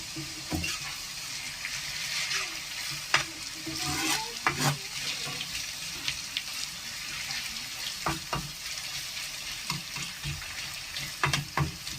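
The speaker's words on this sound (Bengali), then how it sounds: "এবার বাকিগুলো আমি ভেজে নেব।" Sliced potatoes fry in oil for a wedding-style aloo bhaja, a quiet ongoing sizzle broken by irregular scraping stirs and clinks of a utensil against the pan, close by with no talk.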